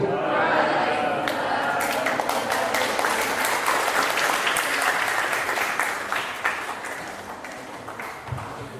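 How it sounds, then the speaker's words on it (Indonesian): An audience at a campus talk-show Q&A session claps for the presenters and moderator, with a steady, dense applause that fills the whole stretch and tapers slightly toward the end. "Beri tepuk tangan sekali lagi untuk narasumber kita dan moderator pada siang hari ini."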